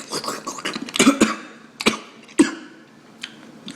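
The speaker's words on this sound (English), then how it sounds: "I'm coughing" A few sharp, dry coughs burst out close by, scattered among quieter throaty breaths and small mouth noises.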